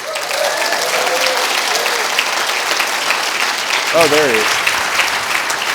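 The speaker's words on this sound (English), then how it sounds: "Everyone, a huge round of applause for Rick Schultz." Sustained applause from a summit audience fills the room for a speaker at a go-to-market event, steady and loud throughout, with a brief spoken remark near the end.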